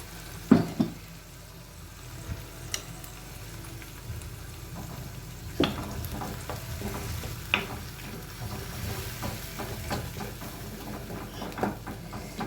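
Homemade Schezwan-style chilli sauce simmering in a pan after jaggery is stirred in, with a steady low sizzle and occasional sharp clinks and scrapes of a stirring spoon, fairly close and without talk.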